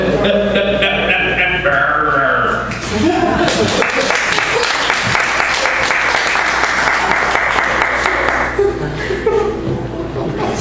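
At a 100,000 Poets for Change poetry reading, voices and chuckles come first. Then a small crowd breaks into steady, fairly loud clapping for several seconds before it fades back to murmuring.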